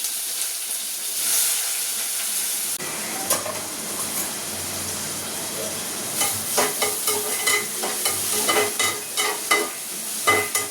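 Fennel seeds dropped into hot oil burst into loud, crackling sizzle after a quieter start, with rapid popping and spattering building steadily close by.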